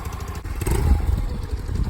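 A newly unboxed $1,200 Grom clone motorcycle idles close by, a steady low chugging engine with a slight rise in revs and some light clatter, no talk.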